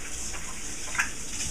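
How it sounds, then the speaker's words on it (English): Tap water runs steadily into a sink while someone washes their hands in a kitchen, a constant close hiss with small splashes. "wash my hands a little bit because they were getting quite filthy"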